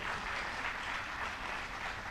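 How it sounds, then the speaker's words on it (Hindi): An audience in a hall applauds, a steady wash of many hands clapping at moderate distance, continuous and even with no voices on top. "तो सब लोग एक बार ताली बजाइए जो लोग इस हॉल में हैं अपने लिए।"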